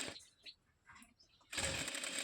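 A sewing machine stitches a blouse in a short burst after quieter handling noises, running steadily and close up.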